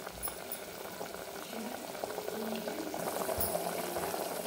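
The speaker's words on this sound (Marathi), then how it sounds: "उकळी आली" Mutton curry bubbling in a pot as it comes to the boil, a steady, soft gurgling and simmering hiss that builds slightly in intensity, fairly quiet and with no talk.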